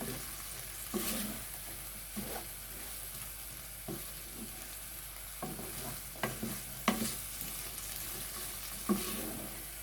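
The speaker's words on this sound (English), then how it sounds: "Let's mix everything together and combine all the spices and flavors together." Chickpeas and potatoes with spices being stirred in a hot pan, a soft steady sizzle broken by scraping knocks of the spoon against the pan every second or so, close by.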